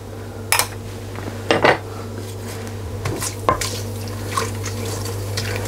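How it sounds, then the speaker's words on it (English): Whole spices tipped into hot oil in a pan for keema pilau give a few clattering knocks and metallic scrapes, with a short burst of sizzle and clinks over a steady background hum. "And now I'm going to add my whole spices."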